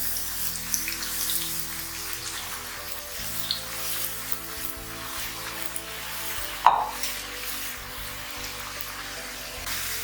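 Sliced potato chips frying in hot oil, a steady dense crackle and sizzle like rain, with one brief louder pop partway through.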